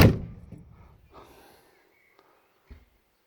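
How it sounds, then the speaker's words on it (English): The door of a 1980 Land Rover Series 3 109, its bottom rail rotten, swings shut with a loud, solid thunk that rings out and fades, followed by a faint click and a softer knock a moment later. "This door is the nicest sounding Land Rover door I've ever heard close."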